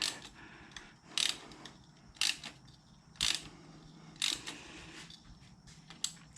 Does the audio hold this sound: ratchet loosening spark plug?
yes